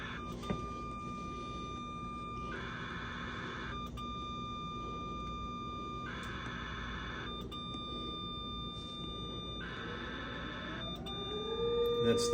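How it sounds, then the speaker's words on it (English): Tornado warning siren activated for Saline County, Arkansas, heard as steady tones with repeated pulsed bursts, faint and distant beneath a constant hum, rising slightly toward the end. "That's the siren outside you're hearing."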